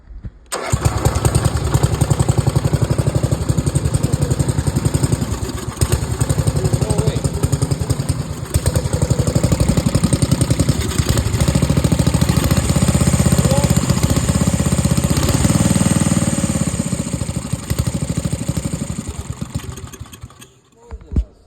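A lawn mower engine, just given gas after a carburetor repair, runs steadily for about twenty seconds at a loud, constant idle close by, then cuts off abruptly at the end.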